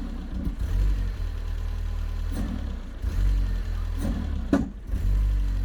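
A Rover 820 car engine idling roughly, rising in a few short throttle blips and revs before settling again, heard close by with no voices.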